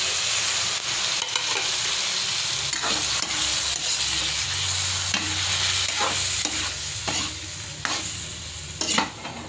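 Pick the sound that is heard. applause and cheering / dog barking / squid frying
squid frying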